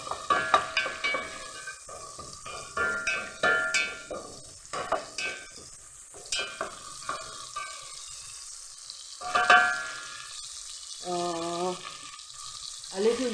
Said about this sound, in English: Add a little bit of heat so that we allow the tomatoes to cook well.